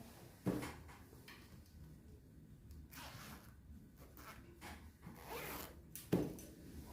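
Zipper on a sewn fitted pencil skirt being handled, with short close zipping rasps and soft fabric rustles, quiet and without talk.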